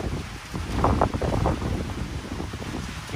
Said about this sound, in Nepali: यो पातहरू ढल्केको देख्दाखेरि चाहिँ कुन लेभलमा आधी चलिरहेको छ भन्ने कुरा चाहिँ थाहा हुन्छ